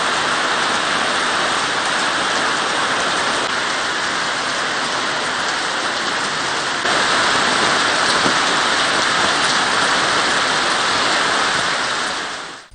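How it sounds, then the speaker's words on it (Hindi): Heavy monsoon rain pours down in Islamabad, a loud, dense and continuous roar of water that grows slightly heavier about halfway through, with no voices. "इस्लामाबाद में मूसलाधार बारिश ने जल थल एक कर दिया।"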